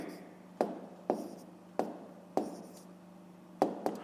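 A pen writes a maths answer by hand on paper, giving six distinct scratchy strokes at uneven intervals, each starting sharply and trailing off, close and quiet with no talk.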